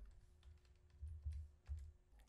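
Typing on a computer keyboard with the emoji panel open: quiet, irregular key clicks in small bursts, close but faint, with a low background hum and no talking.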